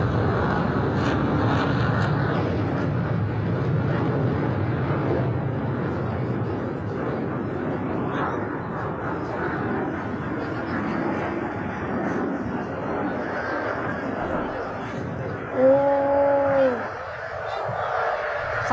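Aircraft fly over the Langkawi air show at the LIMA 2023 opening, giving a sustained distant engine roar that fades slightly, with a short tonal whistle near the end and voices nearby.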